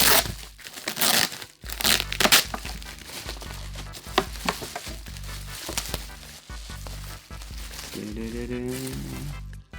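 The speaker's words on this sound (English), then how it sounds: "Here's some ASMR unwrapping sounds for your enjoyment." A boxed Gromit mug being unwrapped by hand, with close, crisp tearing and crinkling of packaging throughout, broken by brief pauses; a low musical backing plays underneath.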